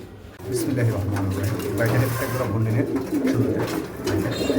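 Pigeons coo in repeated low, throaty phrases close by at a pigeon market, a rolling rhythm over a steady background murmur.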